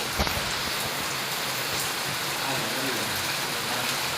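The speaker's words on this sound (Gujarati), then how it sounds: "ફૂલ વરસાદ છે" Steady, dense rain hiss fills the whole stretch, a heavy continuous downpour with no breaks, falling on a farm.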